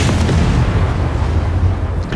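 A heavy boom and rumbling echo from a tank cannon shot in War Thunder on a Vietnam map, loud and close, with the low roar trailing off over a couple of seconds.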